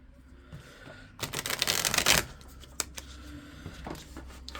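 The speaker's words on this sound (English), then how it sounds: "that's a terrible shuffle." Tarot cards being shuffled, a brief papery riffling burst rising loudly in the middle, surrounded by lighter card taps and handling sounds, with no talking.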